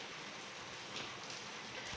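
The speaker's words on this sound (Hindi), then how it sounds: "अभी ना बारिश काफ़ी हद तक कम हो गई है" Light rain falls steadily outdoors as the downpour eases, a constant even hiss of drops on surfaces with no voices.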